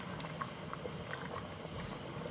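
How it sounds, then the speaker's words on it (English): Water heating in a pot on the stove for Dominican rice with sofrito, a quiet steady bubbling and simmering, not yet at a hard boil, faint and continuous with no talk. "it's not really boiling hard, but we want this to come to a good boil."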